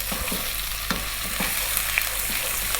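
Ginger garlic paste sizzling in hot oil in a pan while cooking lamb curry, a steady close crackling fry with soft stirring scrapes, no talking.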